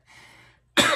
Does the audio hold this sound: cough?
yes